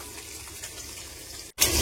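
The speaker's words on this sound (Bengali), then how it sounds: "পেস্ট করার জন্য অল্প জল দিতে হয়।" A little water is poured onto soaked rice for grinding into paste, a short hissing splash that cuts out for a moment and then resumes louder.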